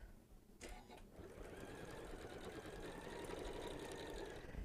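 A sewing machine runs steadily up close, stitching the sides of a fabric holiday stocking with a continuous rapid whirring hum after a brief start.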